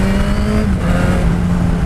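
A motorcycle engine runs loud and close, a steady mid-pitched drone with a slight shift in tone partway through, with no talking.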